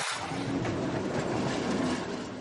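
A tram rolls over a flange-bearing rail crossing in Nantes where lines 1, 2 and 3 meet, producing a steady, close rumble and grinding hum of wheels on track without any speech.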